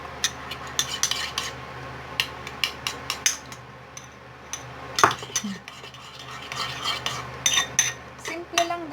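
Utensil scraping and clinking in a pan while garlic roasted chicken is mixed, a run of sharp metallic taps and scrapes, close and fairly loud, with a low background hum and no voices.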